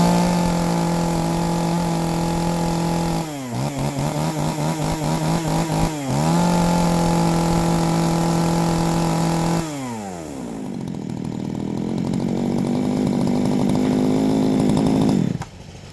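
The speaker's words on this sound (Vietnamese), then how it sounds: "bây giờ thì em sẽ nhờ thợ test nổ hoa cưa" A Japanese Komatsu chainsaw engine runs loud and close, buzzing at high revs with two brief stutters, then dropping lower before climbing again.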